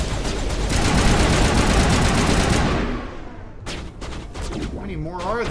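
A loud, dense burst of rapid automatic fire from an assault rifle in the video game Mass Effect Legendary Edition rattles for about three seconds, then cuts off as players talk.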